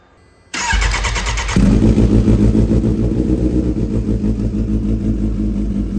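Kawasaki H2 motorcycle engine cranking and catching, then a loud, steady idle and rev with a deep, throaty exhaust, close up and without talk.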